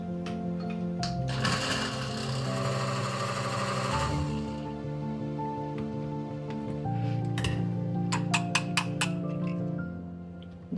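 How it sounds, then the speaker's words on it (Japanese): A kitchen blender whirring while making sakura rice, a steady loud motor drone with pitch shifts as the load changes, rising into a burst of harsher grinding early on and ending with a few brief clicks. "今からブレンダーかけます。"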